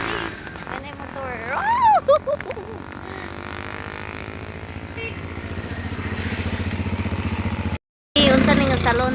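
A motorcycle engine idles close by, a steady low mechanical rumble under people talking, with a brief cutout near the end before the running engine comes back.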